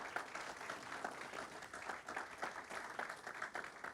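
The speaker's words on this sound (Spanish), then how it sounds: "Vamos a dar un aplauso a la banda de esta iglesia." A church congregation applauds the church band with soft, distant clapping, a fairly steady patter with faint rhythmic accents throughout.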